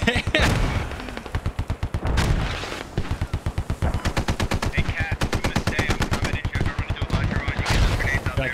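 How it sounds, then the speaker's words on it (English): Heavy gunfire in the video game Squad, with long rapid bursts of automatic fire and several deep booming mortar-like impacts breaking in between the bursts. "Can you see where these mortars are coming from?"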